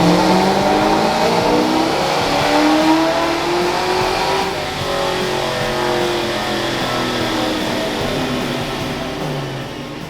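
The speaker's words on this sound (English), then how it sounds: "this is my 1993 Mustang GT" A 1993 Ford Mustang GT's engine revs loudly up close, pitch climbing and falling in strong surges before the roar slowly eases off.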